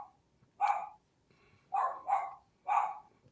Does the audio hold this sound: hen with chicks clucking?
no